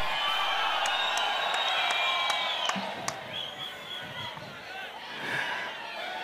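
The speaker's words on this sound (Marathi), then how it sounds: "एक जोरदार जल्लोष होतोय" A large crowd cheers and applauds steadily at a stadium during the Ratnagiri Champions Trophy 2017 cricket tournament, with whistles and shouts rising over a dense roar that stays loud throughout.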